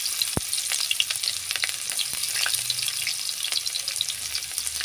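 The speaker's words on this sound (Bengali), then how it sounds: "সুন্দর করে পেঁয়াজটা ভেজে নিব।" Chopped onions hit a generous amount of hot oil for a chicken-stuffed pointed gourd dorma, giving a steady close sizzle and crackle with occasional sharp clinks from stirring, no talking.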